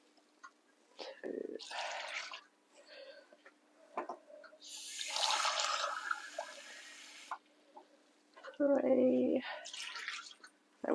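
Water and wine poured from a jug into a slow cooker for an Italian lamb casserole, a steady splashing pour of a few seconds between short bursts of talk and kitchen noises.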